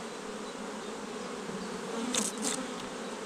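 Honeybees buzz steadily at a hive in late season, a dense continuous hum close by, with a couple of brief louder passes of individual bees near the end.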